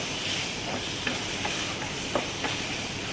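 Capsicum and tomatoes roasting in a hot pan for paneer bhurji, a steady close sizzle with a few soft stirring scrapes breaking through, no voices.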